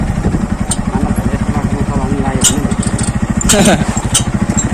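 A motorcycle engine labors steadily under load riding uphill on a narrow hillside road, with a low, rapid pulsing throb, close by, while a voice talks over it.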